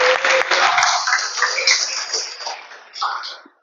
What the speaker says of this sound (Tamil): கைத்தட்டி ஆண்டவருக்கு ஒரு சத்தமா